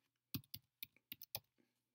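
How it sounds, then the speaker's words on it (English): Fast bursts of computer keyboard typing, about six crisp key clicks in quick succession, close and quiet in a silent room with no one talking. "I type the name"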